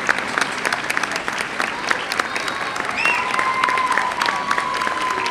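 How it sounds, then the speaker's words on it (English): An audience at a school top-ten banquet applauds the standing parents, with dense sustained clapping from a sizable crowd that grows slightly louder midway and a few voices rising over it. "Parents, please stand so that we can all clap for you"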